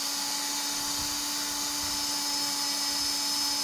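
A racing axle spins fast with a steady, high whine as it is lightly touched for polishing; the tone holds a constant pitch throughout, close and without speech.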